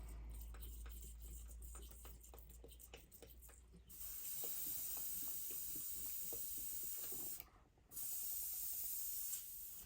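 An airbrush spray gun being cleaned out after tinting a fishing lure, giving loud, steady hissing spray bursts with one brief pause, with small ticking clicks early on.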